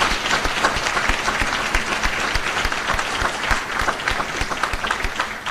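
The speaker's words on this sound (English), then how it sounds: "So let's give all the USACA team and Colonel Whitfield a round of applause." Sustained applause from a large audience at a military change of command ceremony at Fort Sam Houston, steady dense clapping filling the whole stretch without letup.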